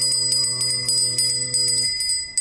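A bell rings alone with a steady sustained pitch, used as the Sa reference tone in Indian classical music, its bright overtones pulsing quickly before the sound fades after about two seconds.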